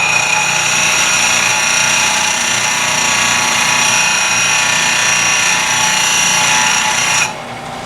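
A grinding wheel sharpening a steel beading tool and throwing sparks, a loud steady high-pitched grinding whine running continuously before cutting off near the end, no talk.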